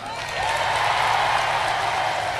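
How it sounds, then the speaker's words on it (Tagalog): A rally crowd in the Western Visayas breaks into sustained applause, rising within half a second into a broad, steady wash of clapping that continues without a break. "Palakpak ng lahat."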